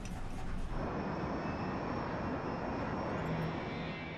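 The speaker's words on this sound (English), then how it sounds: "The plane must fly over the Aleutian Mountain Range to reach Anchorage International Airport." A fixed-wing airliner in an emergency approach toward Anchorage International Airport drones with a steady, loud broadband engine roar, constant and close, with no voices.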